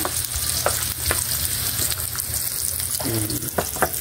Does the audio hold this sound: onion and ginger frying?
yes